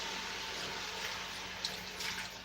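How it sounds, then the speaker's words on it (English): Mushroom water is poured into a hot pan of Thai ginger stir-fry, producing a soft, steady watery rush that runs evenly for a couple of seconds, fairly quiet and without voices. "So I might just put a little bit of water in there."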